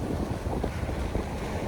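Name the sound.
wind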